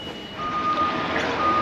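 A truck delivering a Nissan Navara sounds its reversing beeper: a steady, piercing tone that starts partway in and carries on over a low engine rumble at moderate distance.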